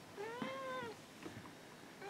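Domestic cat gives a single drawn-out meow, fairly faint and close, followed by quiet room sounds and small rustles, no talking.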